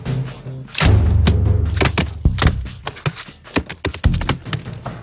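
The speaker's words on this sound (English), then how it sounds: "It's the sound of cheeseburgers hitting a dock in the movie Cloudy with a Chance of Meatballs" Foley for cheeseburgers hitting a dock: loud, close, wet thuds and slaps land one after another in an uneven rhythm, mixing heavy low impacts with sharp splattering cracks, with no voices.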